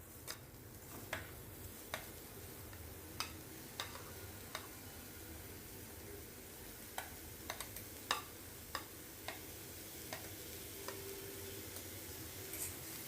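Sliced onions fry softly in an iron kadhai over a gas flame as they are sautéed for a coconut masala, a faint steady sizzle punctuated by sharp, irregular taps of a spatula against the pan.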